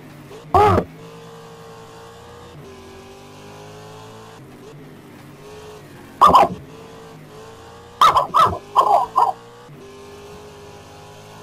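A race car in a racing video game on the Shanghai circuit hums steadily at a constant engine tone, broken by several short loud bursts of revving or tire noise spread across the lap.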